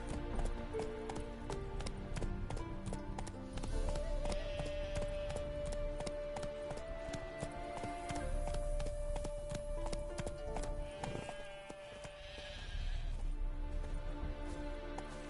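Horse hooves gallop in a steady clip-clop rhythm in The Witcher 3, a continuous run of hoofbeats over game ambience and music, with a brief whinny.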